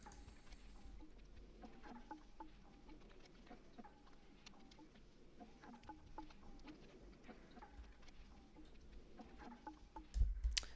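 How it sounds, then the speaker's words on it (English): A texture loop made from white noise and mallets: a soft, hissy noise bed with scattered light percussive taps and tonal plinks, steady and quiet throughout, with a brief louder thump near the end. "I think I just used some white noise and then some mallets"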